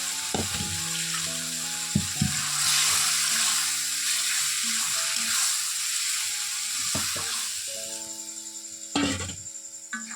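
Boiled chana dal drops into a pan of well-fried spice paste for a Bengali home-style curry, setting off a steady sizzle with a few sharp clanks of a utensil against the pan at the start and end.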